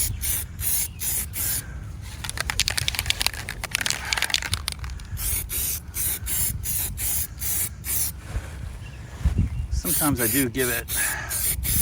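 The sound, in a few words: spray gun spraying primer on Sling TSi wing skins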